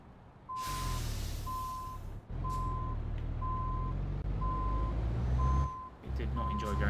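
A reversing truck in Euro Truck Simulator 2 emits steady, evenly spaced beeps, roughly seven in a row, over a loud rumbling engine, with a sharp hiss of air brake release midway and again near the end.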